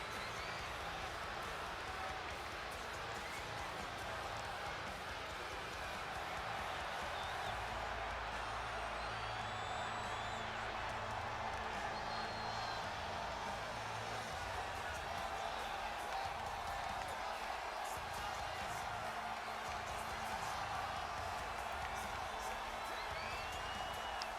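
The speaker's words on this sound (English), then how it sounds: "And the crowd is ready for this matchup here tonight." Arena crowd noise from the WWE 2K20 wrestling video game, a steady, loud wash of cheering and murmur before an NXT championship main event, continuous throughout with no speech over it.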